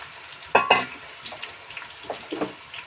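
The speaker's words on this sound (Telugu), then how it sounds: "కాగింది కదా, ఆయిల్లోనూ మనం క్రష్ చేసుకున్న ఉల్లిపాయలు దీన్ని వేసేద్దాం" Crushed onions, over half a kilo, dropped into hot oil for a fish curry, giving two sharp bursts of sizzling followed by softer crackling and a few stirring scrapes, close and without talk.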